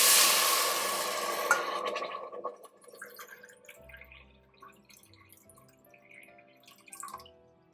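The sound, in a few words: water poured into a pot with quinoa and salt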